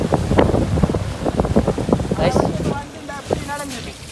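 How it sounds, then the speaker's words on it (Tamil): Ocean waves roll in and wash up on a beach, with wind buffeting the microphone and people talking over the surf. "அலை வருது."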